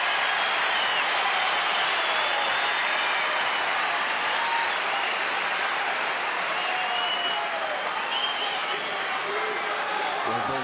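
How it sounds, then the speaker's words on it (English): A large tennis crowd roars and cheers throughout a 2004 Australian Open quarter-final between Roddick and Safin, a dense, sustained wall of noise that stays loud the whole time. "Listen to the roar from the crowd."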